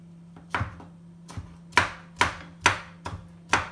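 A knife chopping cucumber on a board for a salad: a steady series of sharp, close taps, about seven or eight over a few seconds, over a faint steady hum.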